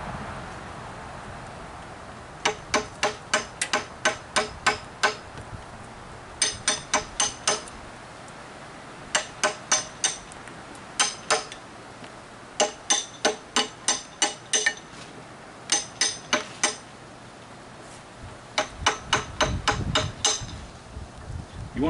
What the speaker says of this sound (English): you take out as much as you can with the chisel